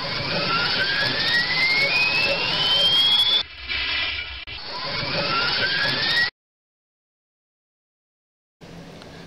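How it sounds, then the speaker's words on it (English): Steam locomotive engine sound effect from the Trainz railway simulator game: a loud, steady synthetic engine roar with rising whine tones, cut off abruptly twice, then a brief silence before the loop resumes. "This is the engine sound in question."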